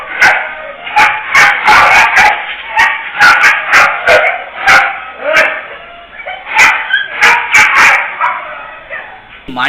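A dog barks repeatedly in sharp, loud bursts with yips and whimpers mixed in, the barks coming in an irregular rapid series over several seconds.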